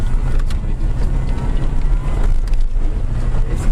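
A jeep crawls over slippery stones on a forest track, its engine rumbling close and steady while tyres grind and scrape over the rock.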